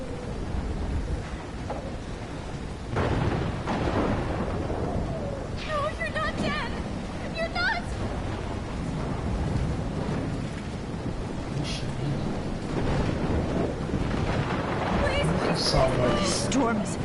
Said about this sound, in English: This storm is huge.